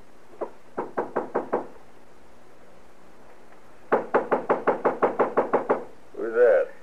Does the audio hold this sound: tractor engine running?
no